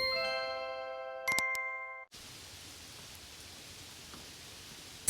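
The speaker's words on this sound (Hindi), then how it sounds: "सावन का महीना था। रिमझिम बारिश हो रही थी।" Light drizzling rain on a quiet monsoon night near a cremation ground, a steady soft hiss of fine drops filling the second half after a brief chiming tone and a few clicks.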